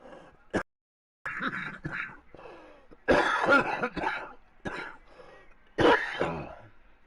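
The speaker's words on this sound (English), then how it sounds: "I do that coughing like that. I mean, I'm getting phlegm up." A man coughs and clears his throat repeatedly to bring up phlegm, with harsh, rasping bursts and gravelly hacking close to the microphone, separated by short quiet gaps.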